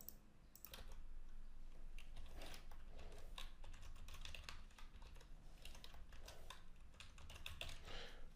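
Steady, busy keystrokes on a computer keyboard as a name and password go into a new email account, close and continuous for the whole stretch with no talking over it.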